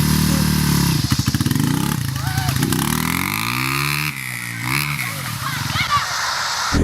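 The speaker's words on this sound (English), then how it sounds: "What you'll do is raise the RPMs a little bit. So see, I'm just applying a little bit of throttle" A motorcycle engine idles and revs gently under light throttle in first gear, a steady close rumble with smooth rises in pitch while someone talks over it throughout.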